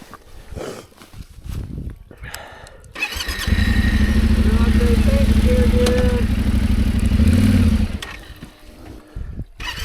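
A 2023 Yamaha Tenere 700 motorcycle engine starts and runs with the throttle applied, a loud, steady, close rumble lasting several seconds before it drops away, with people talking and outdoor noise around it.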